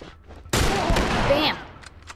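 Gunfire in The Last of Us, a single loud burst that cuts in abruptly and rings out for about a second before fading, with faint voices around it.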